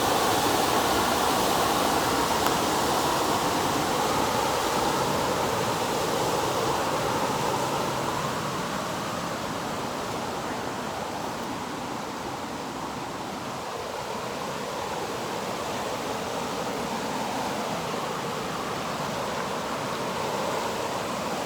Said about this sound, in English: Now we're at the top of the falls here.